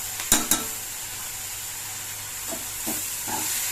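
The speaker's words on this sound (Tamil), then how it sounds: "தேங்காய் சேர்த்த உடனே நல்லா வதக்கணும்" Grated coconut sautéed with onion and tomato in a pan for a meal maker and green pea kurma, a low steady sizzle and hiss with a few sharp scraping strokes of a spatula near the start and end.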